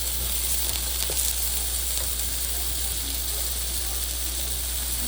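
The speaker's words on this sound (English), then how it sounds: "You want to flip the burger a couple of times" A turkey cheeseburger patty frying in a hot pan gives a loud, steady sizzle with a faint scrape or two as it is turned, and quiet talk sits under the sizzle.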